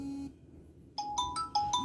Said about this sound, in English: so incoming voice calls, just a notification